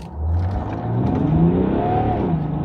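A turbo diesel Mercedes engine revs hard during a boost test, a loud continuous roar that rises in pitch and holds steady.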